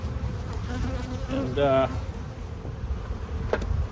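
Honey bees buzz steadily around an open hive during a beekeeping inspection, a dense insect drone that runs the whole time while someone speaks briefly.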